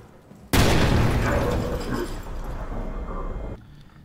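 A grenade explosion in Amnesia: The Bunker bursts suddenly with a loud, close boom, then rumbles and crackles for about three seconds before cutting off.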